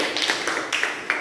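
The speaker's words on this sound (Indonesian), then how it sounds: "Aplaus buat kelompok 1." A classroom group claps for the first team after their presentation in a spring (Hooke's law) lab lesson, a short patter of quiet handclaps with nothing said over them.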